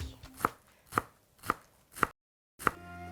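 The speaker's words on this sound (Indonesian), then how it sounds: "aku mau iris tipis kol putih." Knife thinly slicing white cabbage on a cutting board for noodle soup, five crisp, evenly spaced chops with a short pause before the last.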